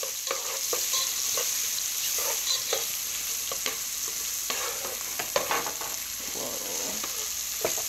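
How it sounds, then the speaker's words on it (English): Thyme, paprika and Italian seasoning sauté in a pan with a soft, steady sizzle, broken by scattered clicks and scrapes of stirring, fairly quiet and close. "Okay, we're going to saute that just a little bit."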